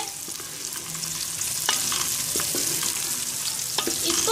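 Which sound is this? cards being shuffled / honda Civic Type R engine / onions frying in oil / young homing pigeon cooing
onions frying in oil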